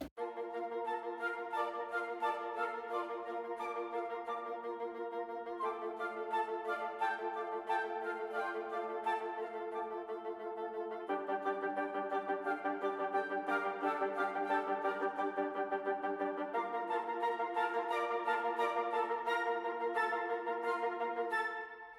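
Woodwinds and flutes in an orchestral arrangement play a rapid staccatissimo pattern, short detached notes repeating in a continuous rhythmic figure whose harmony shifts every few seconds, steady and fairly soft throughout with no talking.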